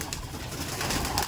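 Racing pigeons belonging to an all-India flying tournament runner-up, let out in the open at a home loft, coo continuously in a dense, steady chorus, close and fairly loud, with no voices over them.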